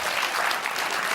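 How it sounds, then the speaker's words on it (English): Studio audience applause on a TV cooking show, steady dense clapping from many hands, continuous and fairly close throughout the short burst. "Round of applause."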